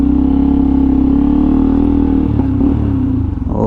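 A Hero Xpulse 200 4V motorcycle rolls into a service centre, its steady mid-pitched engine idling loud and close throughout, with a slight clattery change near the end as it settles.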